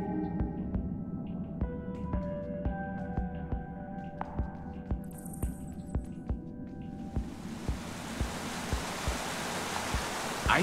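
A waterfall in Minecraft: Story Mode, a steady broad rush of water that swells in over soft melodic music with rhythmic thumps and then holds alone at the end.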